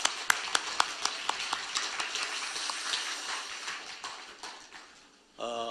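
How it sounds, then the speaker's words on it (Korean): A church congregation applauds its choir at a year-end service, a dense burst of clapping with sharp claps at first that fades over several seconds before a brief tonal sound cuts in at the end. "한 해 동안 수고한 우리 모든 분들에게 서로 우리 격려의 박수 한번 부탁드립니다"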